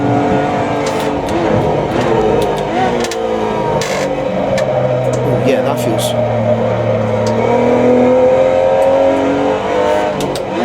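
A Porsche Cayman GT4 Clubsport race car engine revs and pulls hard on a low-grip track, a loud continuous droning roar with shifting pitch as power comes on, while a driver talks over it.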